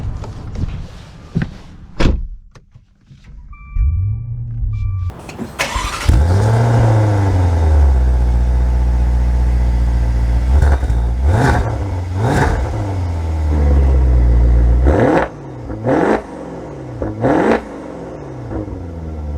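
A 2023 Maserati Levante Modena S with a Ferrari V8 starts with door clunks and an engine start, then idles and gives several sharp rising revs, loud and close.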